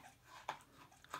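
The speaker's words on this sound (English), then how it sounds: "That's my dog chewing a bone." A dog gnaws on a bone nearby, a couple of soft crunching bites against quiet background noise.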